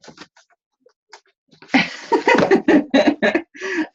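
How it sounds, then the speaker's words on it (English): A few soft coughs, then a burst of harsh, close coughing in rapid repeated fits, loud and alone without talk. "I'm sorry that I'm coughing in your ear."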